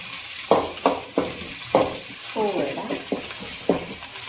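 Shallots, curry leaves and green chillies sauté in a pan over mustard seeds, a soft sizzling bed broken by several sharp spatula knocks and scrapes at uneven intervals, with a voice briefly heard.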